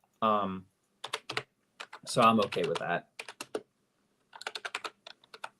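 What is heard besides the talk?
typing on a computer keyboard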